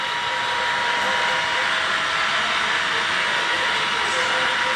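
Two Santa Fe Dash 9 model locomotives running on a large museum layout, a steady continuous rolling rumble and hum with no breaks, with faint voices mixed into the background.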